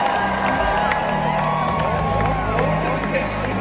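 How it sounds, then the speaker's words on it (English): West Point cadets, gazing up at fellow cadets parachuting down, cheer and whoop as an outdoor crowd in a steady, continuous roar. "we're just all looking up and cheering for all the cadets that are parachuting down"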